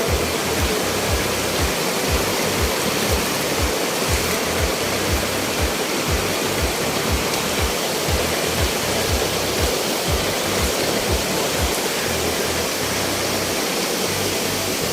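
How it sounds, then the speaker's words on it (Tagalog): A waterfall pours into a river at a camp in Nueva Ecija, a dense, unbroken roar that stays loud and even throughout, with no talk over it. "Napakaganda po ng falls. Sa ilog na rin."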